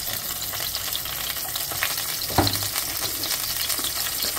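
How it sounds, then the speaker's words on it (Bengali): Cauliflower florets fry in hot oil in a wok with a steady, close crackling sizzle, and a sharper burst of spitting oil lands about halfway through. "কড়াটা তেলটা যেই গরম হয়ে যাবে এর মধ্যে দিয়ে দেব ফুলকপিগুলো"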